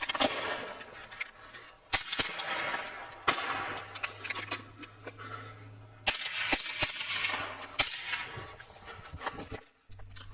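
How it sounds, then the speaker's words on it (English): Gunfire from a police shootout between an officer using a service rifle and a suspect, picked up by a home Ring doorbell camera: scattered sharp cracks, some in quick clusters, heard at a distance over outdoor background noise. "The same Ring camera captured the shootout between the suspect and officer."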